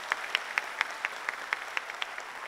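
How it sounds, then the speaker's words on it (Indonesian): Audience applause at a political youth rally in Indonesia, a steady crowd clapping with distinct sharp claps standing out at a regular pace, heard from somewhat far off. "Tepuk tangan untuk anak-anak muda Indonesia."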